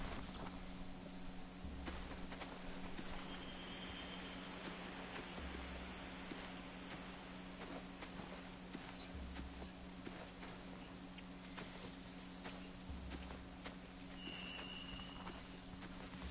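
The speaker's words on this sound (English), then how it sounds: "They have horses." Horse hooves clip-clop in a Walking Dead video game scene, a soft steady walking rhythm set far back under a constant low hum and ambient game noise, with no talking.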